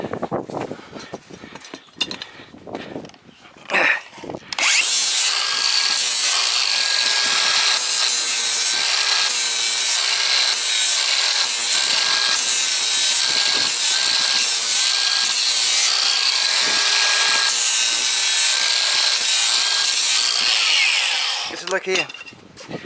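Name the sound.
horse hoof being trimmed and rasped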